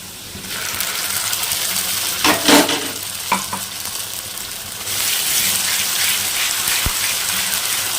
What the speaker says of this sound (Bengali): এখন ভালো মতো নাড়াচাড়া করে ভেজে নেব